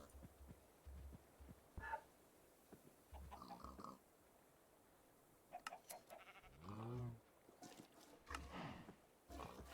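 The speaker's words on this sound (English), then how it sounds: "I'm still hearing a sheep." Sheep bleats from the Minecraft FTB OceanBlock video game, several short wavering calls spread across a quiet in-game background, fairly soft and alone.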